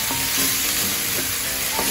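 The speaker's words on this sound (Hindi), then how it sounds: "ये तड़का लग रहा" Tadka for mixed vegetables with paneer sizzling loudly in a pan, a dense continuous frying hiss with stirring scrapes throughout, close and alone.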